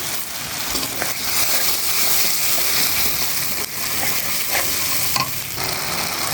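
Egg and potato stir-fried in spice paste in a pan, a steady close sizzle with scraping stirs and occasional clacks of the spoon, no voices.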